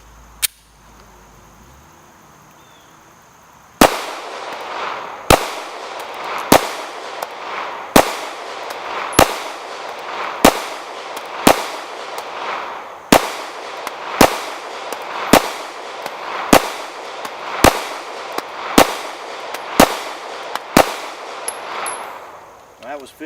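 A Taurus PT111G2 pistol fires plated bullets in a steady string of about fifteen loud, sharp shots at a measured pace, each crack ringing briefly outdoors, after a quieter lead-in.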